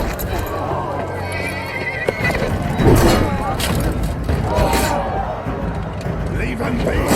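A horse neighs loudly amid clopping hooves and commotion, the whinny rising sharply near the middle of a busy, noisy scene with voices.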